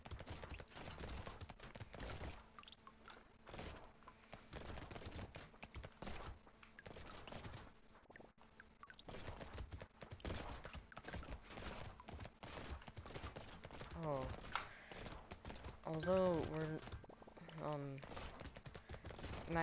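Pistols and an SMG firing nonstop in the arena game Brotato, a dense rattling barrage of rapid shots and hit effects that runs the whole time, loud, with game music and a voice talking over it.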